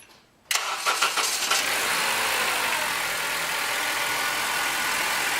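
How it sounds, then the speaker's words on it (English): A Honda Civic's freshly cleaned starter cranks briefly after a moment of quiet, then the engine catches and settles into a steady, loud idle that runs on alone. "So that starter works."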